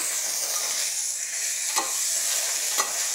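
Food sizzles steadily in a hot pan, a constant bright crackle with two soft knocks of a utensil stirring.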